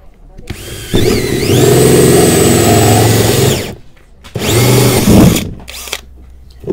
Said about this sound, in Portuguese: Vamos furar ali para vocês verem o, a gente fazendo o furo, tá bom? A gente usa uma serra copo